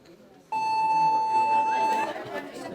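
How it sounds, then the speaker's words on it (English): An early school bell rings as a single sustained electronic tone for about a second and a half, loud over a background of classroom chatter that continues after it stops. "That's an early bell."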